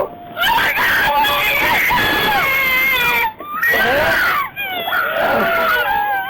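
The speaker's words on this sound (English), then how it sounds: "All the screaming, that's his wife and kids that were in the car watching." A woman and children in a car scream and wail during a police shooting in Alabama, loud, high, anguished cries that rise and break repeatedly, with short pauses between bursts.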